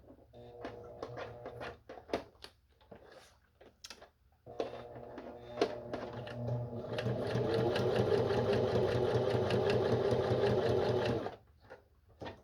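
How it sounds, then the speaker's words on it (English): Sewing machine stitching around a paper junk journal insert: a quiet rattling start-and-stop run of stitches, then a steady, louder continuous whir of rapid needle ticks lasting several seconds before stopping. "We're just going to sew around it."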